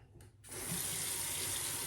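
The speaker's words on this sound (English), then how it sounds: "then you want to rinse for like 2 minutes straight with cool water" Tap water gushes into a sink while hair is rinsed under it, starting abruptly after a brief quiet moment and then running steadily and loudly at close range with no talking.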